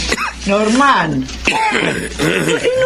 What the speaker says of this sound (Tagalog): inuubo ka na naman.